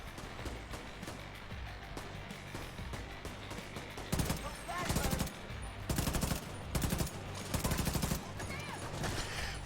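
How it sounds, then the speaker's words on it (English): Automated turret firing in the shooter game The Division 2, bursts of rapid gunfire that grow louder and more frequent midway, with repeated loud volleys over a busy game soundscape. "So my turret will be shooting back the other way."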